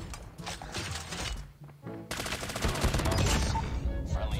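Rapid video game gunfire from an M13 rifle, dense crackling bursts that pause briefly midway then resume louder and sustained, layered over game sound effects.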